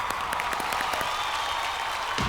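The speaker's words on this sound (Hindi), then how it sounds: "प्रियंका पंडित खातिर एक जोरदार ताली बजाता लोगन" Audience claps and cheers for Bhojpuri film actress Priyanka Pandit, a dense, steady wash of applause from a crowd, loud and continuous with no voices on top.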